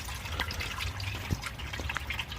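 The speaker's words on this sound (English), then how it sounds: "Get all that oil out of there. And we're going to let that drip out right there." Engine oil drains out of the oil pan of a Ford F-150, a faint liquid trickle with scattered small drips and splashes in a quiet setting.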